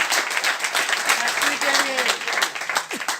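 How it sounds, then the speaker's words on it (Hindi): An audience at a company seminar applauds, steady clapping throughout with a voice speaking briefly over it. "एक बार ताली बजा सकते हैं आप लोग इसके लिए।"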